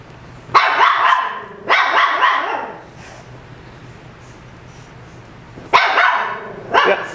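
Dogs barking at someone outside, a few sharp close barks in two bursts separated by a quiet pause, loud indoors with no talking.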